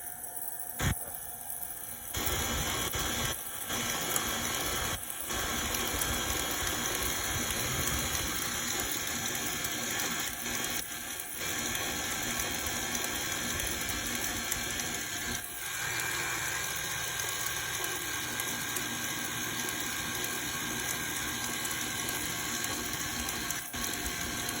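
A stand mixer runs on its slow setting, churning 7 Up cake batter with flour, giving a steady mechanical whir and rattle that holds evenly throughout.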